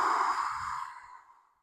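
A single long, airy exhale during a power yoga session, close and fairly loud at first, then fading smoothly to silence.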